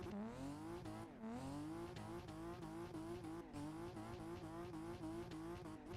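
BMW E36 in Assetto Corsa on a snowy track, its engine droning loud and steady with rising and falling revs through gear changes, and tires squealing as the car slides sideways; no talk over it.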